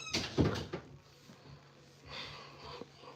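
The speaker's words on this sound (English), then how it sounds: "Could you close my door, please?" A door is shut indoors with a brief close-miked thump and rattle near the start, followed by quieter shuffling and faint handling noises.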